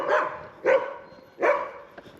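Three deep barks from trained guard dogs on a coastal trail, moderately loud and spaced about three quarters of a second apart, with no talk.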